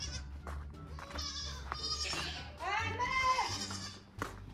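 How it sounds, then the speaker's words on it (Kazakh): Young goats bleat in a few wavering cries near a farmhouse, with children's voices and talk mixed in around them. "Лақтардың жүрсін қараңдар."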